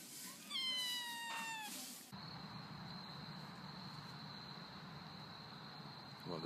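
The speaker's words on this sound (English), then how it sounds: "Ella, what does a kitten say?" A kitten gives a few rising meows close by, followed by a steady high electrical whine and low room noise.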